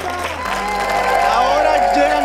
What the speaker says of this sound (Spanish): un fuerte aplauso para ti, Angelina